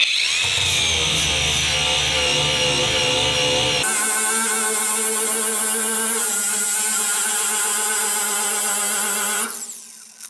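A budget Leader angle grinder cuts into a metal fence, first a rough grinding rasp, then a high steady whine from about four seconds that winds down near the end.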